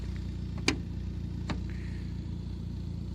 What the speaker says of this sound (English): We're keeping it running just to give the engine a chance to warm up.